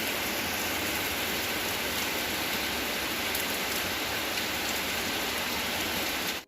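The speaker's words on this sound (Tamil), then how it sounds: "மழை பெய்ய ஆரம்பிச்சிருக்கு. மழை தூரிக்கிட்டே இருக்குது." Steady rain falling on the road home to Trichy, a dense, even hiss of drops hitting surfaces that holds constant throughout at a fairly loud level, with no voices.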